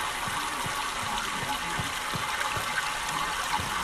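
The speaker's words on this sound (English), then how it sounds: "It's now pipe water flowing all the way to our final elevator." Water rushes continuously through pipes in the Myst remake game, a steady broadband gushing wash with a faint low rhythmic thumping underneath, heard alone without voices.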